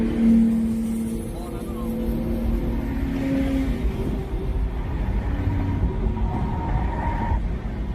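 Sports cars, including a McLaren, racing past in the Forza Horizon video game, a droning engine roar with rising revs, heard under an excited voice talking.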